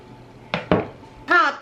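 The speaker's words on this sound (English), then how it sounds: "I'm going to just spoon out some of the banana ice cream" Homemade banana ice cream spooned out of a container, a few soft scoops and knocks of the spoon against the dish, close and brief.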